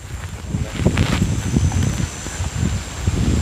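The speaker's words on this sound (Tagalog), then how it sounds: "Mahangin kasi mga kabayan, natatanggal yung sombrero." Wind gusts outdoors buffet the microphone in a steady low rumble with rising and falling surges, strong enough to lift a hat off, and no voices.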